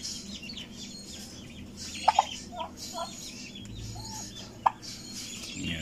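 A mother peahen with newly hatched peachicks in a backyard pen, soft clucks and a few short, sharp peeps over a steady low background hum, faint and intermittent.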